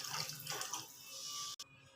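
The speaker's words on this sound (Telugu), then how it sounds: "కొద్దిగా వాటర్ అయితే యాడ్ చేస్తాను." Water poured into a sticky dried prawn curry while cooking, a steady splashing pour that stops abruptly near the end.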